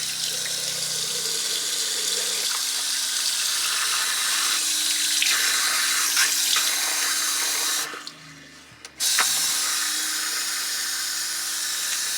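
Water runs hard from an RV faucet during rinsing of a fresh water tank, a loud steady splashing rush close by, briefly cut off near the end before flowing again.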